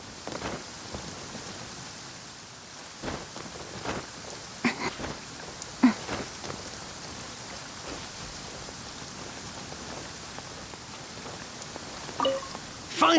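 Steady rain falls in the Genshin Impact video game, a continuous soft hiss of drops with occasional louder patters and ticks.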